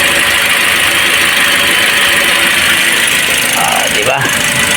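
A Toyota Vios with a dual VVT-i engine runs steadily after a fuel pump fix, a loud continuous mechanical drone close by, with people talking over it.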